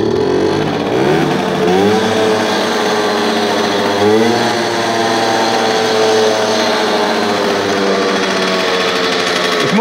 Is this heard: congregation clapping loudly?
no